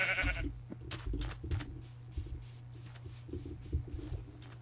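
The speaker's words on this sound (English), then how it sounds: "Move, sheep." Repeated sheep bleats from Minecraft, several short calls in a row over a low steady game hum, fairly close and clear, with scattered soft clicks and shuffles of gameplay around them.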